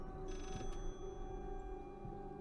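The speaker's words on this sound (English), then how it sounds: "I hear a phone." A telephone rings in the horror video game Layers of Fear, a short electronic trill burst repeating twice over a steady droning ambient background, fairly faint and without talk.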